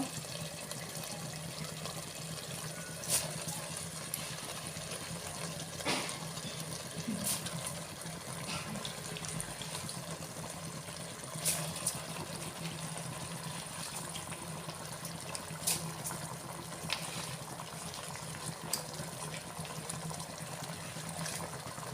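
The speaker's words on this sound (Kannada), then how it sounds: "ಇದನ್ನು ಅಕ್ಕಿ ಹಾಕ್ತಾ ಇದ್ದೀನಿ ನೆನೆಸಿಟ್ಟಿರೋ ಅಕ್ಕಿ ನೀರು ಸಮೇತ ಇರಬೇಕು" Soft, continuous pouring and trickling of water as soaked rice goes into a pot with its soaking water, punctuated by occasional faint clinks, quiet and close.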